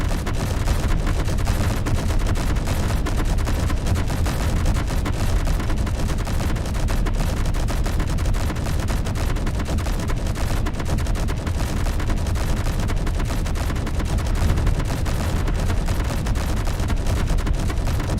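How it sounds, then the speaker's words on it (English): Rapid-fire weapon gunfire from the video game Space Engineers rolls on as a dense, continuous barrage, loud and unbroken across the whole stretch with no clear gaps between shots. "Yes, this is like rapid fire"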